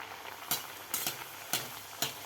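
Sweet fresh-coconut puris frying in hot oil over a high flame, a constant soft sizzle broken by four evenly spaced louder splashes as oil is spooned over them.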